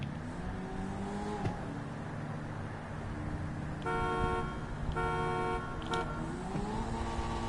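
A car engine in a racing video game revs upward through a 60 to 100 mph run, its whine climbing and dropping at gear shifts. A short honking burst cuts in partway, all at a fairly faint level with no talk.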